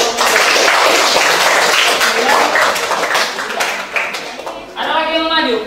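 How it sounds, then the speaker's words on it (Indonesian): Classroom audience clapping for a student group during a teaching performance session, loud and close with irregular hand claps, followed near the end by a brief voice speaking over the fading applause. "Tepuk tangan untuk kelompok"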